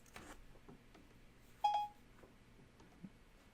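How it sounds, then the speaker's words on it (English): A phone gives a single short electronic beep tone, fairly clear against quiet room background, with faint incidental noises around it. "That's my phone trying to talk to me for some reason."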